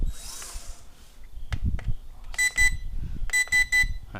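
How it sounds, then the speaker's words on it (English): Electronic beeps from a small quadcopter drone, two bursts of rapid tonal chirps, fairly loud and close, with soft handling noise before them. "Alright, 3 beeps."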